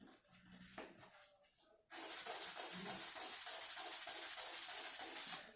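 A piece of Mapuche silver jewelry is rubbed with fine 2000-grit sandpaper, giving a steady, close, rhythmic scratching that starts abruptly after a quieter stretch of softer handling noise.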